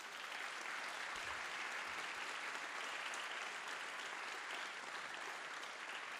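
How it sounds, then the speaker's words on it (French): An audience in a festival hall applauds four panel guests, a steady, dense wash of clapping that stays even and moderately distant throughout. "Je voudrais qu'on remercie et qu'on applaudisse nos 4 invités."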